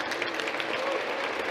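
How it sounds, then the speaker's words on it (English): Applause from a gala crowd celebrating an honoree, a brief, even wash of many hands clapping at a steady level. "Please, a round of applause."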